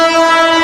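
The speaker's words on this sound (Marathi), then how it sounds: "तो ट्रेन जाऊ दे." A train sounds close and loud with a sustained horn or whistle tone over its running noise, heard alone for under a second.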